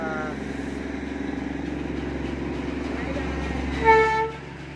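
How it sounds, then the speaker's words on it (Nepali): A toy train passes through a crowded street in Darjeeling, its steady rumble and clatter running throughout and a short horn toot near the end. "फाइनल्ली गइसकेको छ रेल है"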